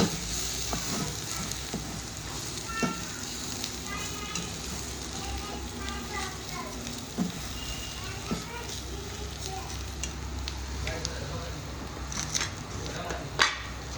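Red chili powder and turmeric masala sautéing in hot oil for Khandeshi shev bhaji, a continuous low sizzle and crackle with stirring scrapes, heard under a person talking.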